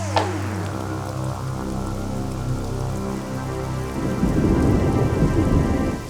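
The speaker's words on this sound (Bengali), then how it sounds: "মুখের কথা শেষ হতে না হতেই বৃষ্টি শুরু হয়ে গেল" Heavy rain pours down steadily after a sharp thunderclap at the start, with rumbling thunder rolling underneath and the downpour growing denser and louder toward the end.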